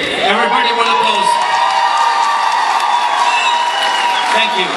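An audience applauds and cheers for a birthday at a poetry reading, with a dense wash of clapping and whoops from a crowd that holds steady throughout.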